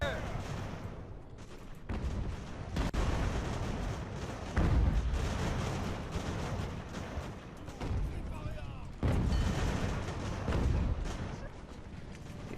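Mortar fire in the naval and land battle game Ultimate Admiral: Age of Sail, a series of heavy booms and rumbling volleys across the scene, with a voice talking at moments over the battle noise.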